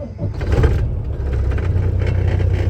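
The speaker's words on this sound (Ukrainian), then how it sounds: "зараз трак заводиться нормально" A RAM pickup truck's engine cranks and starts, catching into a loud, close, rumbling idle that holds steady with a low throb.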